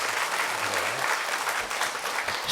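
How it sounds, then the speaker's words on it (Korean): A church congregation at a Sunday service claps as a blessing after a prayer for a child, giving sustained, fairly dense applause with a faint low voice briefly underneath. "박수로 한번 축복합니다"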